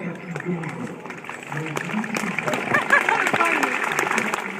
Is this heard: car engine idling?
no